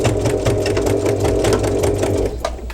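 A sewing machine stitches along both ends of fabric for fishing gear, running in a fast, steady mechanical chatter, close and loud throughout without pause.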